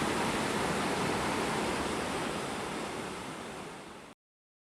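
Bubbs Creek in Kings Canyon, a mountain stream rushing steadily beneath the tree line, a dense continuous roar of flowing water up close that cuts off abruptly.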